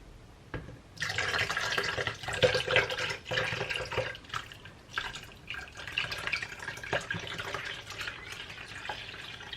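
Milk poured for homemade vanilla ice cream, a steady liquid stream splashing close up for several seconds, with small pauses and drips between pours.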